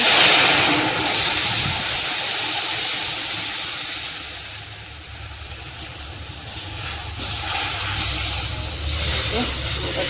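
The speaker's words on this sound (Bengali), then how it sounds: "এবারে আমি এর মধ্যে সিদ্ধ করে রাখা পেঁপে দিয়ে মুগের ডালটা ঢেলে দেবো" Boiled moong dal with papaya is poured into a hot turmeric tempering, setting off a loud, broad hissing sizzle that eases midway and swells again, with someone talking over it.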